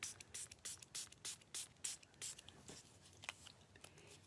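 A hand spritzer sprays 91% alcohol over soft pastels in a quick series of about ten short, sharp hissing puffs, evenly paced at first, then softer and more scattered.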